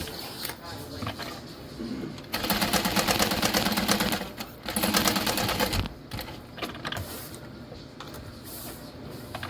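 A sewing machine stitches around a handbag in two sustained runs of rapid mechanical whirring, close and loud, with quieter handling between bursts and speech heard faintly in pauses.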